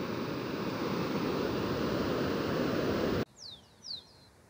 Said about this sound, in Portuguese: É uma belíssima praia.